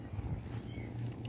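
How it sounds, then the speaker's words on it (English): A stray kitten meows among other stray cats at a seaside corniche in Al Khobar, Saudi Arabia, over a steady low outdoor rumble. "Another kitten there."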